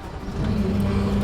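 A skid steer engine fires up and settles into a steady low rumbling idle that grows slightly louder after a moment, close by with no talk.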